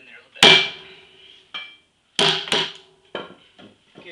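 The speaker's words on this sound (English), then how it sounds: "with this particular hammer, it really starts to split out after it gets sunk in" A hammer strikes into an Osage orange stave, several sharp, loud blows spaced irregularly with ringing tails, the wood beginning to split.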